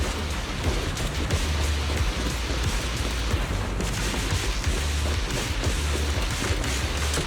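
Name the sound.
rain in the video game Zenless Zone Zero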